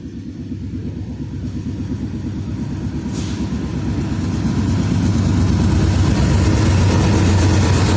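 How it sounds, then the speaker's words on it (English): A freight train passes as a steady, loud low rumble that swells and grows heavier toward the end, with a brief hiss partway through and no voices. "Here comes the choo-choo train."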